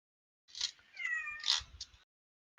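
A pet cat meows indoors in a few drawn-out, wavering calls over about a second and a half, loud and close, with no talk over it.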